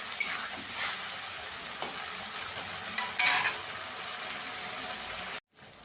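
Ginger and green chili paste being sautéed in a pan, with a soft continuous sizzle and a few gentle stirring scrapes, quiet and close, ending in a sudden cut to silence.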